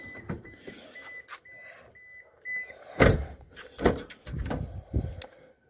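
A door handle is rattled and tugged on a locked door, giving several short clunks and knocks at close range, separated by quiet gaps with faint background tones.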